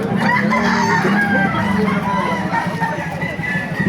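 Chickens and roosters at a crowded Baliuag poultry market, with repeated loud crowing over steady clucking and a background murmur of voices.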